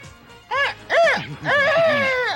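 An odd, strange-sounding dog bark in a French-dubbed Lucky Luke western cartoon: three loud, warbling, pitch-bending yelps in quick succession, the last one drawn out and wavering.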